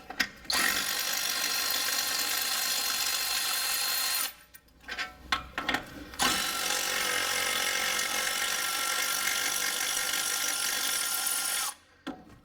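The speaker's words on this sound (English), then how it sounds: "I'm gonna switch out my ½ inch breaker bar for a cordless ratchet here that makes real ease of taking these off" A cordless ratchet spins off rear brake caliper bracket bolts during a rear pad and rotor job, giving long steady mechanical whirring bursts, loud and close, broken by a short pause with clicks and a brief stop near the end.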